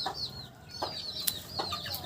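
A hen gives a few soft, short clucks spaced over a couple of seconds, close by, with faint rustling and chirps in the background.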